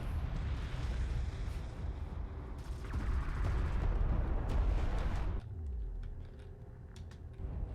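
Bombing run explosions in Homeworld: Deserts of Kharak, a dense, continuous rumble of blasts that swells, then cuts to a lower, quieter drone with scattered impacts.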